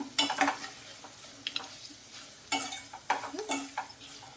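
Spices fry in tempering oil for a tangy citron rice dish. Scattered stirring scrapes and clinks of a utensil against the pan sit over a faint sizzle, coming in irregular bursts.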